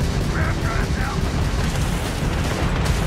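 Gunfire in the video game Starfield, dense booming shots rumbling continuously under a loud, cluttered game mix.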